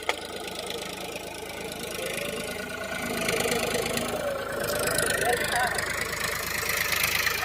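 A tractor engine runs steadily with a knocking, idling diesel chug at a work site alongside a backhoe loader, growing somewhat louder midway, with people talking over it.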